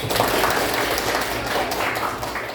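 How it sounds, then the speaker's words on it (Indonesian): Schoolchildren applauding in a classroom during a maths lesson, loud close, dense clapping from a group of pupils held steadily throughout, with no talk over it. "Oke, sekali lagi beri tepuk tangan."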